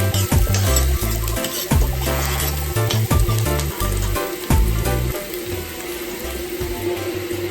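Onions tipped into a pot for Jamaican curry goat set off a steady, close sizzle of frying, with a few clinks and stirring knocks over the crackle.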